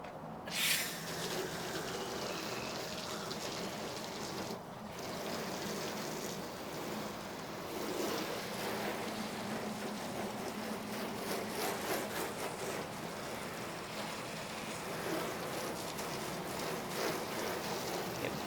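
Water sprays onto a coated car surface as a continuous, moderately faint hiss and patter, like steady rain, running unbroken for the whole stretch without any talking.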